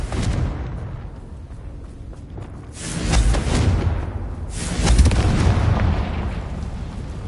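A Confringo blasting spell in Hogwarts Legacy sets off booming explosions, two big bursts rising out of a rumbling background with crackling debris trailing after each.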